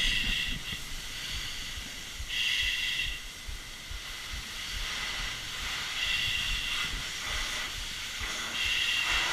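Water hits a training fire during firefighter drills, giving a steady hiss that swells into stronger bursts every few seconds at moderate distance, with no talk over it.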